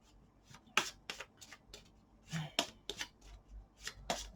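A deck of tarot cards is shuffled up close, with quiet, crisp riffling bursts and soft flicks repeating irregularly and no talk.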